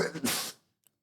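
One short, close sneeze bursts out indoors during a relationship podcast conversation, then silence.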